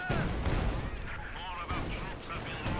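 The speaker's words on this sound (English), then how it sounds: "Barrage goes in." Artillery barrage in a strategy video game tournament match, a dense, continuous roll of booming impacts and blasts throughout, with commentators talking over it.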